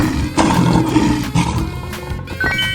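A cartoon lion lets out a loud, sustained roar in two or three surging pushes, heard close against a music bed.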